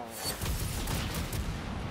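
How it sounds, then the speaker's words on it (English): A gold goal explosion from the Rocket League video game bursts out loud and dense, a booming, crackling blast that fills about two seconds and holds steady throughout. "I've never seen that gold explosion."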